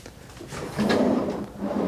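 A drawer sliding open in a Hilton Hiroshima hotel room, a close, smooth scraping glide that swells midway and trails off, with no voices.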